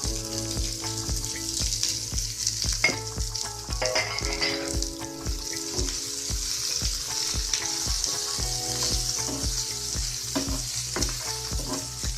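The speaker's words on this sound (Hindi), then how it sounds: "पैन में अब हम स्प्रिंग ऑनियन डाल देंगे।" Spring onions fry and sizzle in a pan for an aubergine bharta, a continuous hiss broken by regular rhythmic scraping strokes of stirring, close and fairly loud with no talking.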